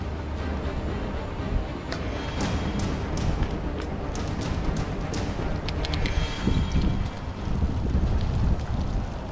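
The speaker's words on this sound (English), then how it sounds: "Good weather for it, other than it's just a little windy." Wind pushes hard against the microphone during a bike ride in a constant low roar, with occasional sharper buffets and no talking.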